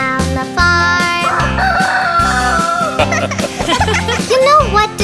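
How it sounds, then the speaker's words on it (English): A rooster crows and chickens cluck on a farm, set against upbeat children's song music with a steady bouncing beat. "The chickens all go cluck, cluck, cluck."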